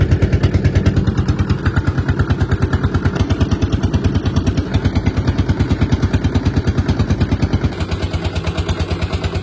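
A small boat's engine runs in a Sundarbans creek as the boat pulls away, giving a loud, close, rapid chugging pulse that continues steadily throughout with no talking.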